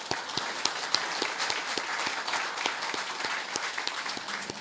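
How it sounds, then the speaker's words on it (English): An audience at a Republican club event claps steadily for veterans, a dense wash of hand claps with a few louder individual claps standing out near the front. "One more round of applause for our veterans."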